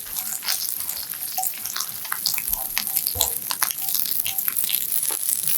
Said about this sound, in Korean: 꽈리고추 넣고 1분 정도 볶아주세요